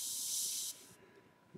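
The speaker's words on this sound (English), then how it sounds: "we're going to go ahead and spray that stripe" A short, bright airbrush hiss sprays acrylic paint for under a second, then stops, leaving quiet room tone and a faint click.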